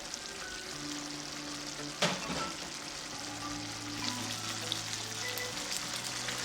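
Fuluri Ilish, a hilsa fish curry with butternut squash, bubbles and sizzles steadily in an uncovered pan as its liquid cooks down, with a brief louder clatter of stirring partway through and a low hum beneath.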